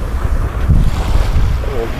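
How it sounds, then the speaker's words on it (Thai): Wind and sea waves at a beach, a loud continuous rushing roar with heavy wind buffeting on the microphone and no clear talk. "เห็นทะเลครั้งแรกของวัน"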